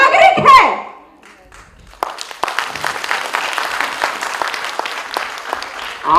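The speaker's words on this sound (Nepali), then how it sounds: "आपने ताली भड़काया" A live audience at a Nepali political comedy show bursts into loud, sustained applause after a short pause, with a voice heard briefly before the clapping and some laughter mixed in.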